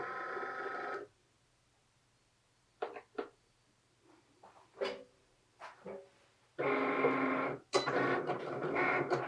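A Cricut Explorer Air 2 cutting a plaid shape, heard as a whirring motor run, then scattered short mechanical clicks and moves, then another steady whirring pass, close and fairly quiet.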